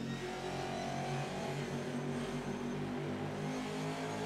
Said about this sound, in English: Love the sound of that transmission whine.